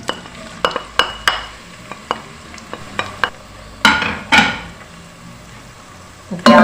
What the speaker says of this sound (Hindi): प्याज को थोड़ा सा फ्राई होने देते हैं।